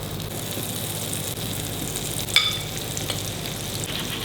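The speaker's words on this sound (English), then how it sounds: "Now let's shallow fry it until it gets a slight color on the outside" Paneer pieces shallow frying in hot oil in a non-stick pan give a steady close sizzle throughout, with a brief louder crackle midway, likely as a piece goes in or shifts.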